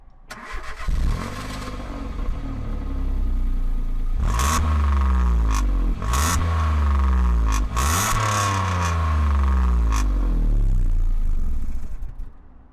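A Citroen C1 petrol hatchback engine starts and idles nearby, then revs up sharply several times with quick throttle blips that climb and fall, returning to a steady idle between bursts.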